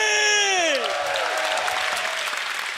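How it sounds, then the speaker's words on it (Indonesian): Audience applause for comedian Arie Kriting at a stand-up show, a dense wash of clapping that swells in as a voice trails off and holds steady and loud to the end. "Tepuk tangan untuk"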